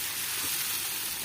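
Pieces of chicken being stirred as they fry in hot oil in a pan, giving a steady, close, dense sizzle that continues without pause and with no voices.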